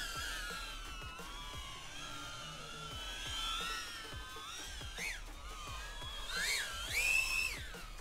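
High-pitched motor whines rise and fall as a small 3-inch HGLRC Veyron30 CR cinewhoop FPV drone maneuvers, whistling tones swooping up and down, fairly faint with a light background hiss.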